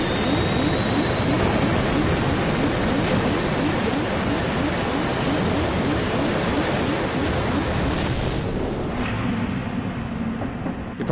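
A plane's engine drones loudly and steadily in Stranded Deep, a sustained roar with a rising whine that fades slightly near the end.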